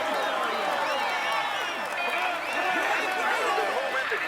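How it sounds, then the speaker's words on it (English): In the video game Tour de France 2020, a roadside crowd applauds and cheers a rider, a dense, continuous wash of clapping and excited voices at steady loudness. "Come on, let's applaud him once more."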